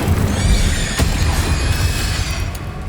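Confringo, the explosive spell in the video game Hogwarts Legacy, bursts loudly amid dense, continuous combat noise, with a sharp impact hit about a third of the way in and a bright, ringing magical shimmer throughout.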